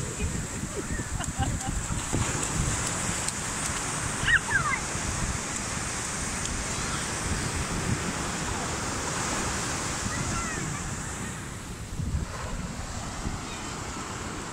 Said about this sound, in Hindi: बहुत अच्छी लहर है। और देखो बड़ी लहर आ रही है। बहुत बड़ी लहर आ रही है।